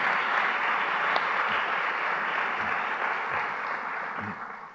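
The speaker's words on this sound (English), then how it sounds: "please stand and let's give you a big round of applause" Conference crowd at the ASCA 2014 closing keynote applauds school counselors, a thick continuous roar of clapping from many people that gradually tapers toward the end.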